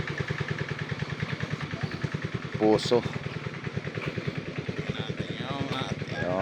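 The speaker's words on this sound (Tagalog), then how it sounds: "may makina malaking motor galing sa ilalim ng lupa yung tubig niya" A steady, rhythmic water pump motor chugs nearby throughout, drawing water from underground to irrigate crops, with a person talking over it and a brief sharper clatter partway through.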